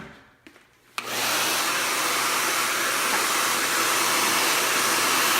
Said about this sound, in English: You wanna blow dry this